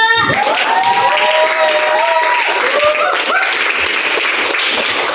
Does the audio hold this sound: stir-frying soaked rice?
no